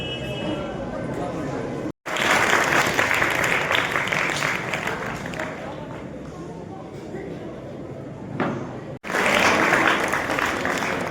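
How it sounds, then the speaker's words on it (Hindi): Loud, sustained clapping from a crowd at a children's award ceremony, continuous for several seconds with brief cuts, while a voice speaks over it. "उनके लिए भी जोरदार तालियां।"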